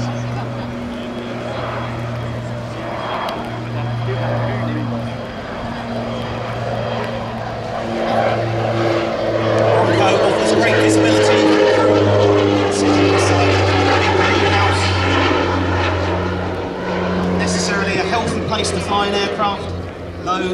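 North American OV-10B Bronco twin-turboprop flying a display at the 2016 Biggin Hill Airshow, a loud, steady propeller drone with a throbbing low hum that swells as it passes near, with voices heard faintly underneath.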